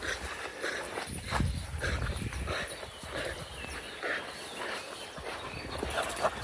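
Dogs scamper around outdoors in a quiet open spot, their quick padding footfalls and rustling forming an irregular patter at moderate distance, with no talking.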